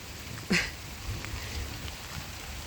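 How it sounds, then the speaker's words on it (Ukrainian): Light rain falls steadily in a garden, a soft, even hiss close by with one brief sharper patter early on and no talking. "От, дощик почав знову, знову, знову."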